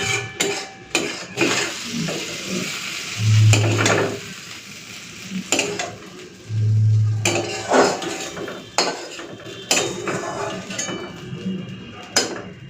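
Cooked kochur loti (taro stolons) being scraped and served out of a pan, with repeated spoon and metal scrapes, clinks and stirring sounds over a faint background sizzle, no talking.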